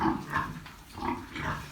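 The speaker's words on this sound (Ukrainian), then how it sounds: "свинки вже поїли." Pigs in a barn grunt and squeal repeatedly at close range, a rough, nasal rhythm of overlapping calls with no human voices.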